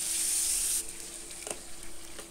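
Chicken pieces going into hot mustard and soybean oil on a tawa, with a loud steady sizzle that drops after the first second to a softer crackle, plus a faint clink of handling.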